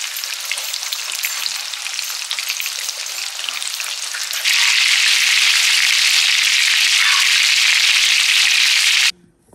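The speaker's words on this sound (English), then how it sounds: "We're gonna start frying up these pork chops." Pork chops sizzle and crackle steadily in a hot pan, growing louder and brighter midway, then stop abruptly near the end.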